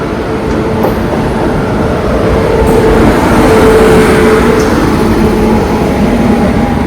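A train rolls through a railway station with a steady, loud rumble and rattle that holds evenly from start to finish, with no talking.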